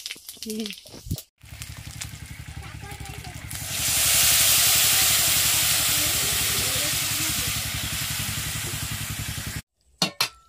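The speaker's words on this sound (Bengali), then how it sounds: "এই যে শুকনো ঝাল দিয়ে দিয়েছি, 5 ফোড়ন দিয়ে দেবো।" Dried chilies and five-spice seeds hit hot oil in a home kitchen and set off a loud, steady sizzling hiss. It swells after a few seconds and holds for several seconds, with a voice faintly present at the start.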